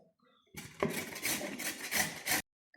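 Rasping, scraping strokes of skin being peeled off a large lemon, close and fairly loud, several continuous rubbing passes over about two seconds with no talk.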